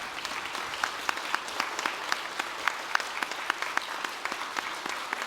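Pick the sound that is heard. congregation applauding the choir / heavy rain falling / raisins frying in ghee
congregation applauding the choir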